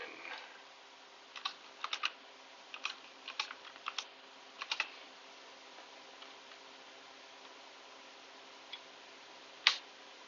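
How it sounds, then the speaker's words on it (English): Light clicking of keys on a computer keyboard in a short burst of typing, then a pause and one louder click, faint against a steady background hiss with no voices. "I'm going to type in"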